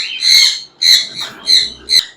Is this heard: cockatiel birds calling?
yes